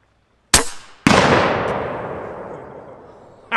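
FX Impact STX air rifle with a tensioned barrel firing a hybrid ballistic tip slug outdoors: a sharp snap, then a second loud report half a second later that rolls off in a long reverberant tail.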